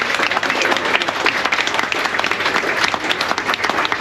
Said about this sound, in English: Can we make one good applause for all our team?